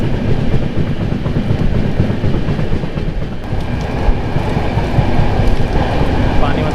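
Goa Express train running around a curve on the Goa to Delhi route, a steady loud rumble of wheels and carriages with rhythmic clickety-clack throughout, heard close from onboard.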